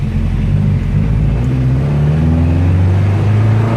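A 1967 Volvo Amazon with a Weber carburetor driving along, its engine a steady loud low drone that rises slightly in pitch as it pulls, bogging a little under load, with no voices over it.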